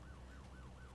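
A police car siren in the Roblox Ultimate Driving game wails faintly, its tone sweeping up and down in a steady repeating cycle.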